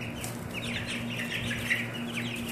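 Cornish Cross and Australorp chicks about four weeks old cluck and peep softly, with a faint steady hum behind them.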